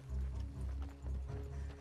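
Horses from Red Dead Online ridden at a steady pace, heavy rhythmic hoof clip-clops thudding up close in a regular gait, with faint voices in the background.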